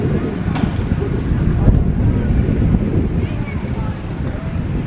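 Gusty wind blows across an open outdoor spot on a chilly day, roaring in low buffeting rushes against the microphone with faint background sounds mixed in.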